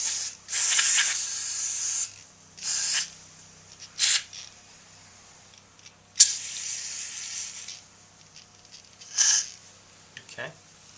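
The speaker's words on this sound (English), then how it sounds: "using carburetor cleaner again, you want to hit all your ports" Carburetor cleaner sprayed onto a lawn mower carburetor in several sharp hissing bursts of one to two seconds, close up, with quiet gaps and light handling noises between them.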